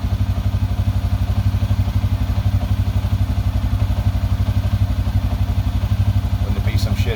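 A 2007 Suzuki King Quad ATV engine runs steadily at idle, a close, even low pulsing throb that holds through the whole stretch, with a brief higher clatter near the end.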